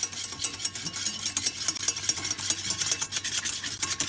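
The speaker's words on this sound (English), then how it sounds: "So we're going to whip these eggs, these yolks, and we're going to just move them." Egg yolks with a little cold water are whisked briskly in a bowl for hollandaise, producing a quiet, rapid rhythmic scraping and rubbing with no talking.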